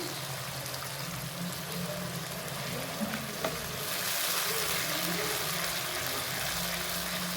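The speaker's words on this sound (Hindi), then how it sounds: "इसमें मैं अब ऐड करूँगी थोड़ा सा पानी।" Water splashed into spiced masala frying in a pan for an aloo matar gajar mixed vegetable curry, giving a steady close sizzle that grows brighter and louder partway through, with no talking.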